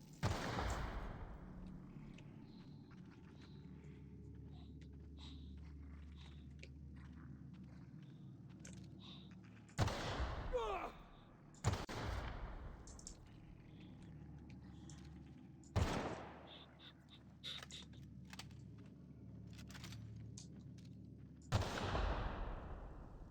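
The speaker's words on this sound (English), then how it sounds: "Someone rig up a mortar?" Mortar explosions in the video game The Outer Worlds: four sharp, heavy blasts at irregular intervals, each cutting through a low ambient rumble with faint clattering in between.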